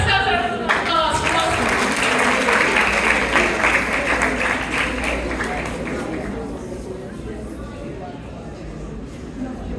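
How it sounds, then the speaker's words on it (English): Students and audience at a school impact summit break into sustained applause, dense clapping that fills the room for nearly ten seconds before gradually thinning and fading. "Give yourself a round of applause."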